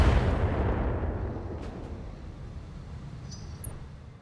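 Heavy mech weapons fire and explosions in the BattleTech video game, a loud booming barrage at the start that rumbles and fades into a lower sustained roar.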